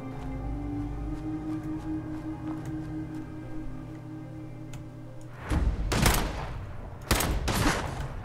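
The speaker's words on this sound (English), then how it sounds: "I want to use these scraggly pistols" Pistol gunshots in the video game Fallout 4, a few sharp, loud cracks in the last few seconds after a long stretch of low humming ambience.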